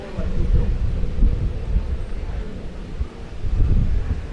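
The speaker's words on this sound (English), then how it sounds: "we're up on the mountain at the moment, so it is very breezy." Strong gusty wind on a mountain near Phuket's Big Buddha roars and buffets the microphone continuously, a heavy low rumble with no clear pauses.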